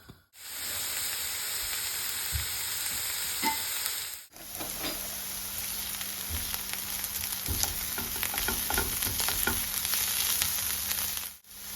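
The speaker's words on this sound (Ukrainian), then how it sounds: "Наша морква із цибулькою вже трішки підсмажилася" Onion and carrot sizzle steadily in sunflower oil in a frying pan, a loud continuous crackling fry with brief breaks, stirring clatter, and no talk.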